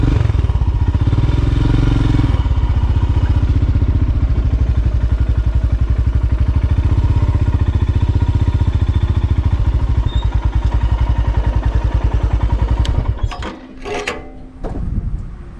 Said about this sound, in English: It is a 2022 Royal Enfield Himalayan. This one is set up as a dirt bike